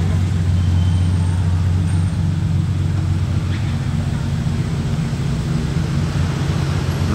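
A small convoy of classic cars, a vintage Ferrari followed by an old Rolls-Royce, rolls past in a steady loud engine and road rumble amid street traffic, with someone talking over it.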